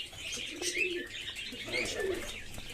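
Pigeons coo in a breeding loft, with several soft repeated coos and chirps close by over a steady background, and no talk.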